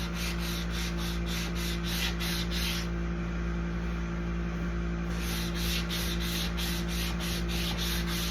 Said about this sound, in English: I love these sanding pads.